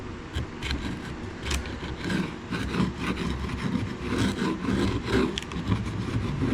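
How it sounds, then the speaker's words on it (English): Dull scraper dragged steadily across a candle mold, a continuous coarse rasping scrape at close range, loud and unbroken throughout. "let's go ahead and give this a little scrapey scrape"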